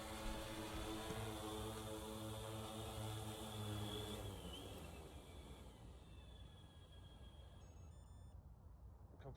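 Tarot X8 Pro carbon-fiber-armed octocopter drone, fully loaded with extra weight, auto landing: a loud, steady multi-rotor buzz with layered tonal whine that softens slightly as it descends, ending with a few short electronic beeps.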